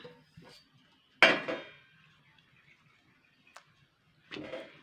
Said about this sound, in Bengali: তো এবার আমি এখানে একটা চাটু নিয়েছি।